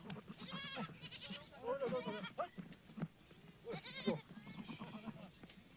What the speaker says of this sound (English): almost 500 goats at last are gathered near Namche Bazaar